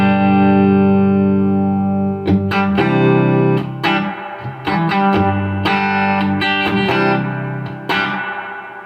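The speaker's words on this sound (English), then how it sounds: "The reverb on the Super Bs is exceptional" Electric guitar played through a Carr Super Bee amp with the amp's reverb turned up to around ten o'clock, loud sustained chords and picked notes with a lingering reverb tail and no talking.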